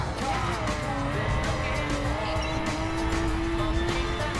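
A car engine in the video game The Crew drones steadily at speed, its pitch rising gradually as it revs through a gear change, loud and continuous with road noise underneath.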